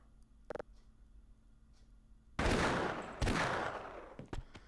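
Gunfire in the video game Half-Life: Decay bursts out loud and dense partway through after a near-quiet start with a brief click, continuing in rapid overlapping shots with a couple of sharp repeated blasts.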